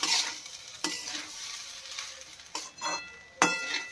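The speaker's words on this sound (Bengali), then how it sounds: "তিনটে এলাচ দিয়ে খানিকক্ষণ একে ভাজা ভাজা করে নেব" Spices with salt and three cardamom pods frying in a pot for a village-style prawn pulao, a soft sizzle broken by several sharp stirring scrapes and clinks of the ladle.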